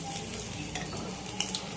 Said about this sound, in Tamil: ஸோ அடிஷ்னலாக ரெடி பண்ணுறதுக்காக தான் காலிஃப்ளவர் ஃப்ரை பண்ணிகிட்ருக்கோம்